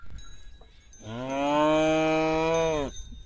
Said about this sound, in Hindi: तो भाई यहाँ से तो गाय चली गई और ये देखो बहुत यहाँ से दिख भी नहीं रही ठीक से, आवाज़ आ रही उधर से उसकी